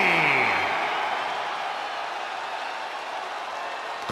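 Applause and cheering from a wrestling arena crowd in the WWE 2K24 video game, a steady broad rumble of clapping and whoops that slowly fades, with an announcer's voice rising over it at the start.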